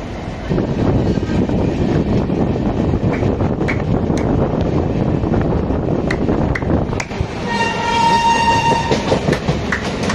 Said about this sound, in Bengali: দেখুন টাটানগর হাওড়া স্টিল এক্সপ্রেস যেটা, সেটা টাটানগর থেকে ছেড়ে এসেছিল, এটা এখন হাওড়াতে ঢুকছে।